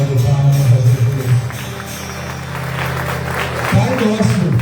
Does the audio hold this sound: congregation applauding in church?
yes